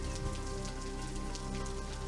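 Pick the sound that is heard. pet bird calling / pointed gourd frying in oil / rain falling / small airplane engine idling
rain falling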